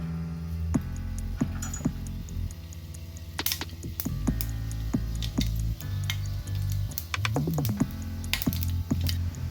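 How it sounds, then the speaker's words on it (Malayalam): Mustard seeds pop in hot coconut oil in a pan for a bitter gourd stir fry, sharp scattered crackles and snaps over a steady low hum, with no talking. "കടുക് പൊട്ടി"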